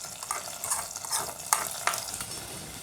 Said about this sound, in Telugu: ఇప్పుడు మనం తయారు చేసిన పోపునంతా పప్పులో వేద్దామండి.